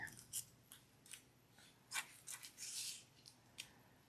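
Small scissors make quick, quiet snips through duffle bag fabric close by, with a few crisp cuts followed by a longer rasping slice, all faint and alone in a quiet room.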